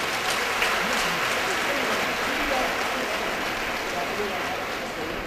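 Audience at a college diamond jubilee valediction ceremony applauding the guest of honor, a university vice chancellor: a continuous wash of many hands clapping, moderately distant and even, with a voice faintly present underneath.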